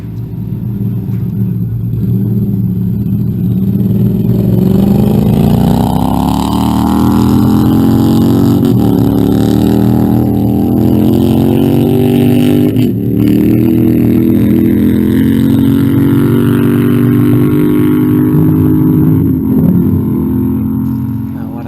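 A Triumph Thruxton R motorcycle engine runs steadily and loud throughout, its pitch climbing gradually as it accelerates on a run at Bonneville Speed Week's salt flats, with a continuous rising drone.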